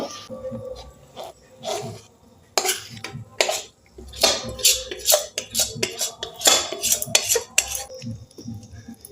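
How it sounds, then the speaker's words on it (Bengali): A metal spatula scrapes and clatters against a pan while stirring a sugary peanut bar mixture, with irregular close knocks and scraping strokes. "খুন্তি দিয়ে আমি এইভাবে চাড়িয়ে নেব"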